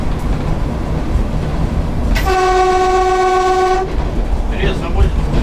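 A freight train rumbles past slowly as it pulls in to a stop, heard from the cab of an ED9M electric commuter train, with a long steady horn blast over the continuous rolling noise.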